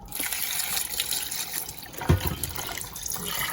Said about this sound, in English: I'm going to cover this with water.